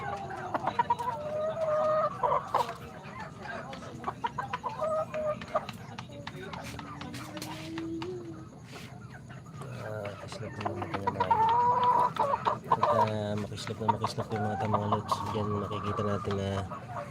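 Pet chickens clucking close by, with a rooster-like call among them, in a backyard setting while a person talks over the birds throughout.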